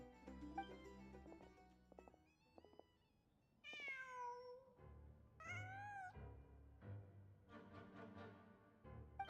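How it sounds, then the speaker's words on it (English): In the video game Genshin Impact, a cat meows several times, with clear, rising and falling cries close up over quiet background music. "Huh. Just a cat."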